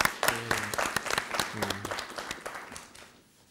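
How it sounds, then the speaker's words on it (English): Audience applause closing a panel debate, a dense burst of clapping over faint voices that gradually thins and fades out. "Let's applaud."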